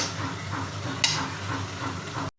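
Pangas fish pieces are stirred into cooked spice masala, frying with a soft sizzle and scraping stir sounds, one sharp clink of utensil on pan, then a sudden stop.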